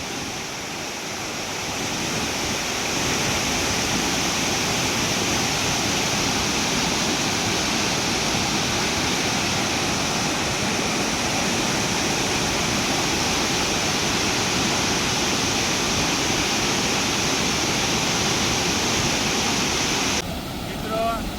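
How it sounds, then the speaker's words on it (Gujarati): Water pouring heavily down a waterfall in a canal near Vekra village in Mehsana, a loud, dense, unbroken roar that holds steady throughout. "આ એ જગ્યા છે કે જ્યાં પાણીનો ખૂબ જ ધોધ વહી રહ્યો છે"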